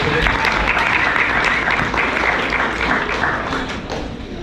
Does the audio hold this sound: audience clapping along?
yes